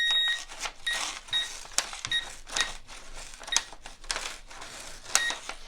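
A handheld metal detector scans through one inch of MDF lumber, giving short electronic beeps at irregular intervals. Soft rustling and handling noises sit between the beeps.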